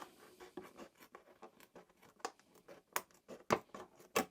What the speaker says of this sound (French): il suffit d'utiliser un ciseau Alexan courbe comme celui-ci et de suivre les lignes